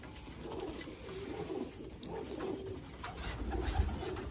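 Soft, low cooing of a Sialkoti pigeon repeats nearby over rustling background noise and faint ambient hum.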